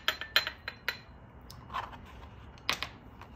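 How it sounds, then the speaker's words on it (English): Pampered Chef avocado tool scooping avocado flesh from the peel, giving a few sharp light clinks and scrapes against a hard surface, close and quiet, in brief irregular taps with no talk. "Scoop it straight out with that dull side."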